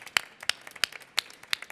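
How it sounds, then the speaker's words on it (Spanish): A handful of separate, distinct hand claps ring out at irregular intervals, fairly close and crisp, more like a few individuals clapping than a full crowd. "¡Vamos a este aplauso fuerte!"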